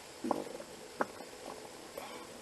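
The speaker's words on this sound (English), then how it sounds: "Can you stop farting on my film, sir?" A fart heard outdoors, a short low rumbling burst followed by a couple of fainter squeaky blips, quiet against background noise.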